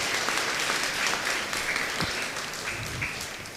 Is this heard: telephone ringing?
no